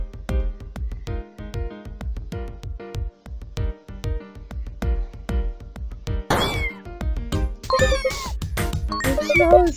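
A cat in the game Wholesome Cats meows repeatedly over a jingly, rhythmic game soundtrack, with a series of short meows bunched toward the end.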